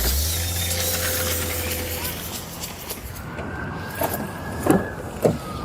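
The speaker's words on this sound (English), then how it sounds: "She just started the car up." A car starts up and pulls away during a roadside encounter with police, a steady engine hum and hiss with a rising whine, a few knocks and thumps near the end, and a voice speaking faintly under it.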